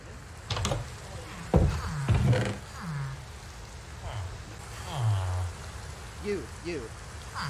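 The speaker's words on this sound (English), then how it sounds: "It's raining." Rain falls in Minecraft, a steady soft patter running under the whole stretch while a person talks over it and brief game sounds pop in now and then.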